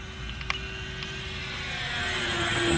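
Electric motor of a 1500mm Dynam Me-110 RC model plane whining steadily at close range, a sustained tonal hum that slowly builds in loudness as power is applied, with a brief click near the start.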